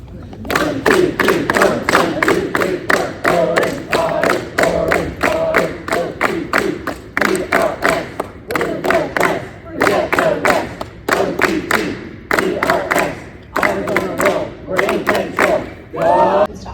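A group of students chants a loud rhythmic cheer in a school gym, voices shouting in unison with stomps or claps marking a steady beat throughout, echoing in the hall.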